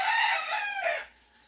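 A single rooster crow, loud and close, rising then trailing off into quiet.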